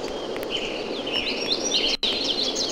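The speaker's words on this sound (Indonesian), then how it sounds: "Ini mah suara alam, suara angin sama suara burung" Birdsong chirps and trills over a steady rush of wind in a nature ambience from the Zettai Zetsumei Toshi video game, the calls continuous and fairly close, with no voices.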